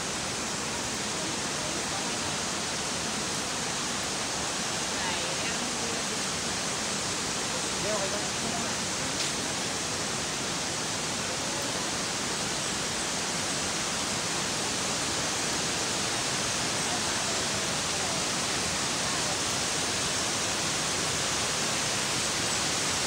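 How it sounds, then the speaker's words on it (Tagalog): Mimbalot Falls roars as a steady, full-band rush of falling water, loud and constant throughout with no break. "Mimbalot Falls. Ito ang Mimbalot Falls."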